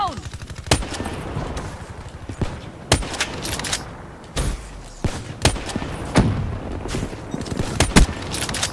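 Gunfire during a team deathmatch in Black Ops 3, with sharp single shots and short bursts scattered irregularly over background game noise, close and punchy, while a player talks.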